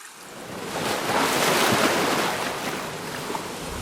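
Ocean waves roll in Cascais Bay, a continuous broad wash that swells in the middle and eases off, with wind noise and no talking.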